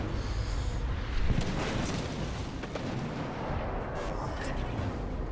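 Warship gunfire in World of Warships Legends, a tier 8 battleship Iwami, sounding as a dense, loud continuous roar of booming artillery with a heavier blast just past the first second, no talk over it.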